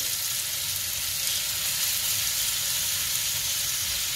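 Kefta meatballs fry in a pan with a steady, close hiss and sizzle that stays even and continuous throughout.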